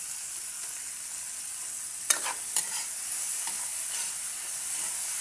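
Tomatoes are stirred and crushed in a frying pan to draw out their juice, under a constant bright hiss of frying with a few light clicks of the spatula against the pan.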